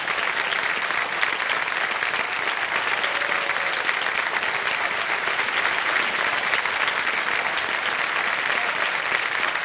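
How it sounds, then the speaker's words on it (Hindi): A television quiz show studio audience claps loudly and continuously for a junior contestant, an even, sustained roar of applause with no voices on top. "जोरदार तालियां बज जाए"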